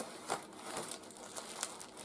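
Bubble wrap being handled and crinkled while unpacking a parcel, giving soft, irregular crackling bursts close to the microphone, quiet and without talk.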